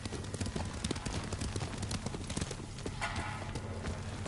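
Horse hooves galloping in the video game Ghost of Tsushima make a fast, steady clip-clop that drives on through the whole stretch, close and prominent, with a faint voice in the background.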